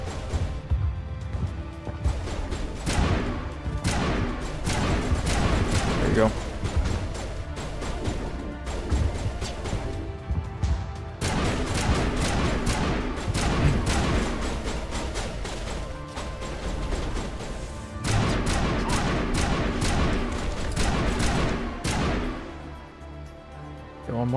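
Sustained gunfire from the video game Mass Effect, loud, dense bursts of shots and impacts arriving in waves across the whole stretch, with brief lulls between volleys.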